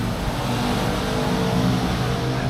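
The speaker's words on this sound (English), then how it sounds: "on the road behind me, there's a few bikes that went by" Steady road traffic noise with a mid-pitched engine drone and a light sense of vehicles moving past on a nearby road, fairly loud and continuous without talk, with motorcycles going by.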